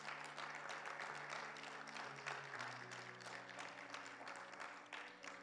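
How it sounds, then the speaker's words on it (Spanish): A church congregation gives loud, sustained applause for the Lord, with dense, steady clapping over a held musical chord underneath. "Denle un fuerte aplauso al Señor"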